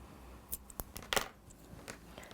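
Scissors snip through crochet yarn on a small worm toy, giving a few quiet, brief cuts and rustles close by, with one sharper cluster of snips near the middle.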